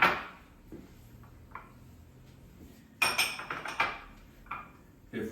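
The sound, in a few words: chopped cauliflower and broccoli being added to a bowl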